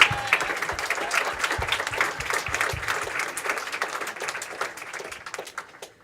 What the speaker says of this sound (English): Let's all give them applause.